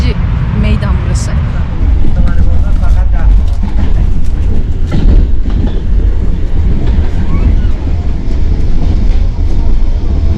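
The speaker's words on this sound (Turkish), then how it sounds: "burada çift katlı bir tren var" A double-decker metro train in Tehran rumbles loudly and steadily nearby, with rattling wheels and clatter throughout, and a person talking over the noise.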